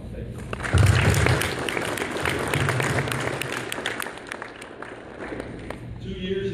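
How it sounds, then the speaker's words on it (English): An audience applauds the brigade staff at a U.S. Army brigade change of responsibility ceremony, a loud, dense burst of clapping that swells early and then tapers, with low thumps mixed in. "Would you give them a round of applause?"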